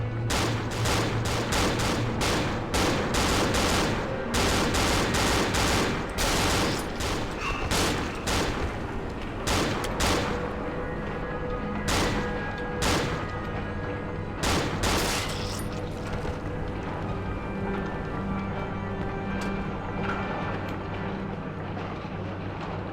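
Rapid, continuous gunfire in the horror game Cry of Fear, dense strings of sharp shots for the first half, then sparser bursts over a steady mechanical drone, loud and close throughout.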